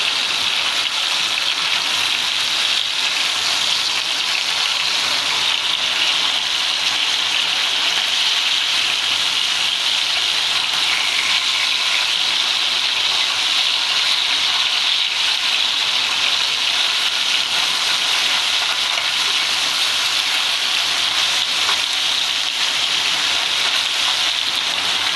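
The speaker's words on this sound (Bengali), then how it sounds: "মাছগুলো হালকা আছে ভেজে দিচ্ছি।" Fish frying in oil in a pan, a steady dense sizzle and crackle running loud and unbroken throughout, close up with no voices.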